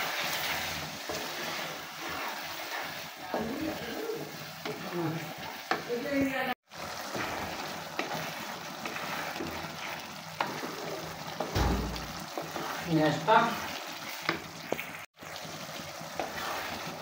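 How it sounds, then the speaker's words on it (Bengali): Chickpea dal and beef stirred and fried in a pot in a village kitchen, giving a continuous sizzle with scraping and stirring noises and a couple of brief breaks. "ডালগুলো দেওয়ার পর এখন নেড়েচেড়ে খুব ভালোভাবে আর একটু কষিয়ে নিচ্ছি।"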